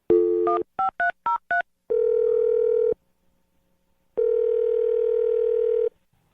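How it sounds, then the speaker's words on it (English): Quick series of touch-tone beeps as a number is dialed, followed by two long steady dial tones with a silent gap between them. "dial her phone number right now"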